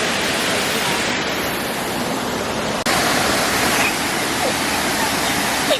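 Roaring waterfall on a girls' trip, a steady dense broadband rush of falling water that fills the whole scene, loud and continuous with a brief dip near the middle.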